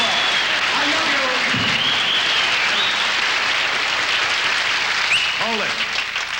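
Studio audience at a 1967 television variety show applauding, a broad continuous roar of clapping with voices and brief whoops rising over it, sustained at full level throughout.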